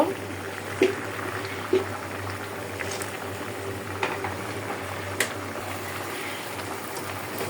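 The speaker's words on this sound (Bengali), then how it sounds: "আমার ডাটাগুলো কিন্তু সিদ্ধ হওয়ার পথে" Taro stems boil in a pot, a steady bubbling simmer with a low hum beneath and a few soft knocks, moderately quiet and close, no one speaking.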